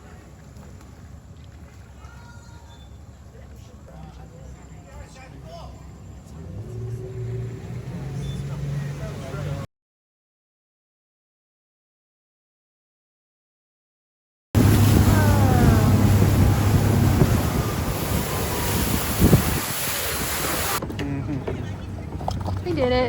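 A boat travels across water at night on a firefly and blue-tears outing near Kuala Lumpur, with a steady engine rumble and water wash; voices talk over it, and a gap of silence splits the run partway through.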